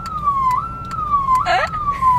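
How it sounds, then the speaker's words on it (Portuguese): A car horn plays a wailing siren tone that sweeps slowly up and down, with a brief burst of chatter partway through. "Você viu a buzina que eu tenho no meu carro?"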